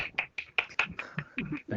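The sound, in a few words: clapping from participants' unmuted mics on a video call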